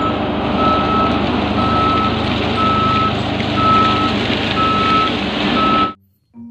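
A toy cement mixer truck plays an electronic engine rumble with a repeating reversing beep, steady and loud for about six seconds before cutting off abruptly.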